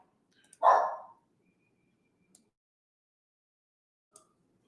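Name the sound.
dog barking in the house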